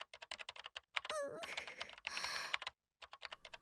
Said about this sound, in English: I spoke loudly to keep up with the sounds of fingers hitting keys.